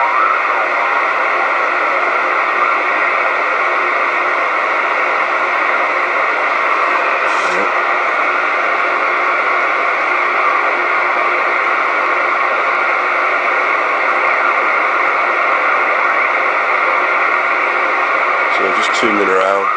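Steady hiss-filled radio reception of the HAMSAT VO-52 amateur satellite on 2 meters upper sideband around 145.895, a continuous noisy band of static with faint signal tones, a brief click midway and tuning chirps at the end.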